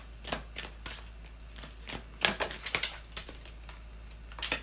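Tarot cards being shuffled and drawn by hand, a series of crisp, papery riffles and snaps in irregular bursts, close and fairly quiet with no talk.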